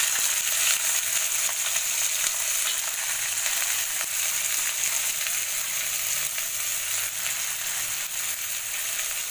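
Chopped onion dropped into oil with dried red chilli, a steady, even hiss of frying that holds at a constant level throughout, close by and unaccompanied by voices.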